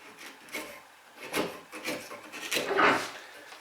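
A chisel pares wood with its flat held against the work, giving a series of close, dry rasping scrapes in short uneven strokes with quiet pauses between them; no one speaks.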